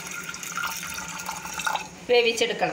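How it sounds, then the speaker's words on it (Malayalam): Water pours and splashes into a cooking pan for boiling sukhiyan filling, a steady trickle under a woman's speech that swells into a louder, fuller pour near the end. "കുറച്ച് വെള്ളം ഒഴിച്ചിട്ട് ഇത് വേവിച്ചെടുക്കണം"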